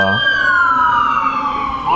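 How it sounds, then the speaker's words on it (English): A wailing emergency vehicle siren sweeps down in pitch as it passes outside, loud and continuous for about two seconds and heard alone. "Siren brought to you by Johnny Mac"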